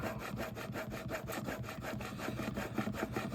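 A jack plane blade being honed to a micro bevel, a steady rhythmic scraping rubbed back and forth in quick even strokes, close and fairly loud throughout with no talking.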